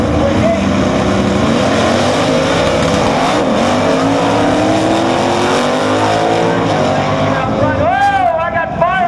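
Drag racing cars roaring loudly at MIR with a Pontiac among them, continuous engine noise filling the track, a rising rev sweep near the end, and a voice talking over it.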